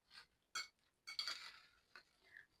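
Chips are tossed in sauce in a bowl, giving a few sparse clinks and scrapes of utensil against dish in short separate bursts, quiet and close, with no talking.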